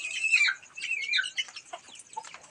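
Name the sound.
small hen clucking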